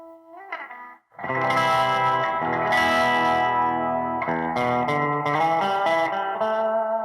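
A guitar played through spring reverb with a tremolo pulse rings out, a few short notes first, then sustained chords with shimmering, wavering decay, alone and fairly loud.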